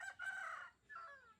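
A hen or rooster in a village yard gives two short, fairly loud clucking calls with a brief pause between them, heard alone without talk.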